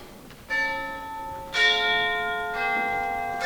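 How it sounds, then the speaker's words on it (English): A clock bell strikes the hour in a school stage production of A Christmas Carol, with three clear resonant chimes, each ringing out and decaying into the next. "At length the hour began and Scrooge counted the chimes."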